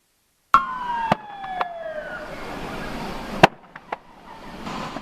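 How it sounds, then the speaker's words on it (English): Sharp pops and bangs from an RV engulfed in flames beside a highway at night, several distinct cracks spaced over a few seconds above a steady roar, with a siren-like wail sweeping through early on. "you just heard there those small explosions that could be heard coming from this RV that became engulfed in flames"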